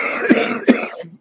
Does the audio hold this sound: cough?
yes